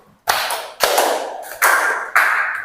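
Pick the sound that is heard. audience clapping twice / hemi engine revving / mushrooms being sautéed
audience clapping twice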